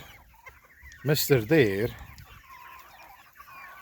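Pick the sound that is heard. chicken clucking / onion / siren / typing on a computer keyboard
chicken clucking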